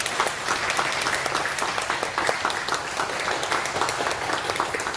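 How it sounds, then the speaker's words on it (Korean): A church congregation claps in celebration during a Sunday service, a dense, steady wash of applause from many hands that holds evenly throughout, moderately loud and without speech. "여러분 박수로 축하해 주시기 바랍니다"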